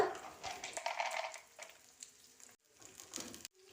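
Onion, chana dal and peanuts frying in a pan, giving a steady crackling sizzle with stirring scrapes that pause briefly near the end, close and moderately loud, with no voices.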